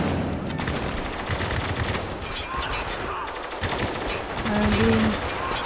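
Gunfire in the video game Spec Ops: The Line, with dense rattling bursts running through the whole stretch under a busy battle mix, growing louder near the end.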